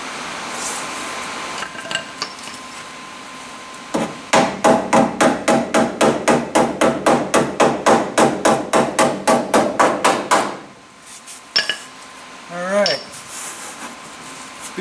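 A body hammer beats sheet metal in a run of about twenty sharp, ringing blows at an even, fast rhythm, close and loud. A few scattered taps come before it, and a voice speaks briefly afterward.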